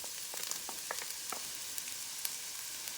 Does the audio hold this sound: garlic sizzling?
yes